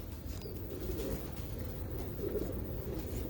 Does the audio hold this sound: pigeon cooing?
yes